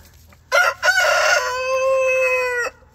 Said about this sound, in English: Our chickens are out here just loving all the sunshine.